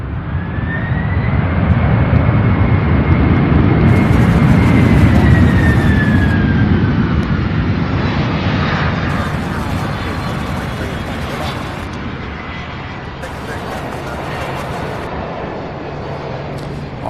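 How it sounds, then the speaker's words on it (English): A UPS Boeing 767 arriving at Louisville airport from Denver, a loud broad jet roar that swells and then slowly fades, with a high engine whine sliding downward and no talking. "767 arriving from Denver. This is UPS 2805."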